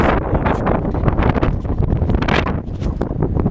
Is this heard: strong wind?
yes